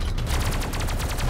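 Rapid mech guns fire in the video game Robocraft, a fast, steady burst of repeated shots at full loudness throughout, with no voices.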